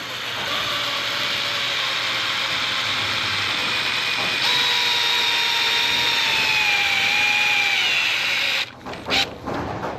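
A power drill drives trim screws slowly into wood while building a fishing rod stand, a steady close whine with gliding pitch running for most of the span, then cutting out into a few short bursts near the end.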